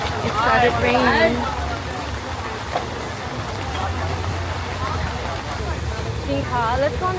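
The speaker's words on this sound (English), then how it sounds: "It started raining." Steady rain patters and hisses across an outdoor market in Thailand, a constant wash of noise beneath people talking close by.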